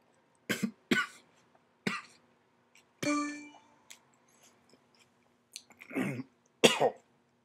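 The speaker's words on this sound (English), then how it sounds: "I'm choking on it." A person coughs while choking on a tomato, with a series of sharp separate coughs and throat-clearing bursts spread over several seconds, close and fairly loud against near silence, along with a brief ringing clang.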